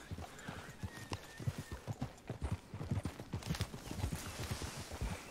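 Hoofbeats of a horse in the video game Red Dead Redemption 2, a steady clip-clop rhythm at moderate distance, fairly quiet, with no talk over it.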